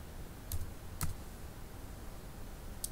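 Two or three crisp keyboard key clicks, like arrow-key presses on a computer keyboard during an Excel lesson, land as short isolated taps about half a second apart, with a faint one near the end, over a quiet room background.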